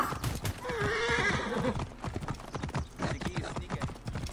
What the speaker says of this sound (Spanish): Yo voy en mi apuesto corcel.